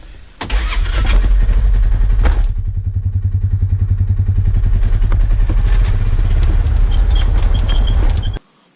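A Polaris Ranger 570 UTV runs in four-wheel drive, its engine a loud, close, throbbing low rumble that starts abruptly, holds steady for several seconds with clattering over it, and then cuts out.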